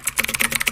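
Quick, close clicks of keyboard keys as a web address is typed into a phone browser's search bar, a rapid, even burst of about a dozen taps.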